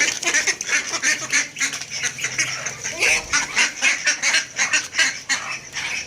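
A flock of ducks quacks and honks loudly and continuously while being fed chicken livers, many birds calling at once close by.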